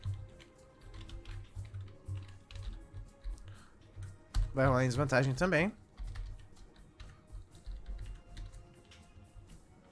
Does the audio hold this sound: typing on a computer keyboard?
yes